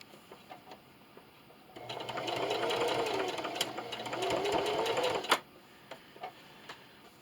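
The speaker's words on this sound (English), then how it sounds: "I'm going to go ahead and do a whole inch seam allowance, and don't forget to backstitch at the beginning and the end" Sewing machine stitching a one-inch seam through fuzzy fabric for a washable ottoman cover, a steady rapid whirring run of about three and a half seconds with a short pause midway, framed by quieter handling noises before and after.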